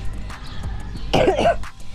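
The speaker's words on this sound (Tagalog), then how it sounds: "Tapos, may ubo po" A few close, harsh coughs burst out in quick succession after a moment of quieter breathing sounds.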